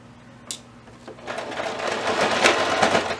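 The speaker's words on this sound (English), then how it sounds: "just doing a box stitch. So I'm going to start on one end," Domestic sewing machine running a box stitch on the tie of a child's apron, a brief click then a steady rising motor whir and needle chatter, close by and alone.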